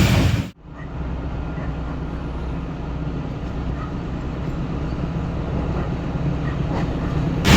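The Awam Express rolls through fog between Golra Sharif and Lahore in Pakistan as it passes its sister train. A loud, steady rail rumble follows a sharp break near the start and runs without talk.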